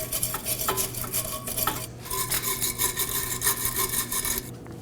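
A wire brush scrubs rust off the subframe mounting surface for the rear lower control arm of a 2015-2023 Nissan Maxima, in quick rhythmic back-and-forth rasping strokes, close and fairly loud, with one brief pause midway.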